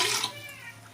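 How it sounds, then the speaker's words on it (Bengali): Water poured into a cooking pot in a home kitchen, a brief splashing gush that starts bright and loud and tapers off within a second. "আগে আমি এখানে জল ঢেলে নেব।"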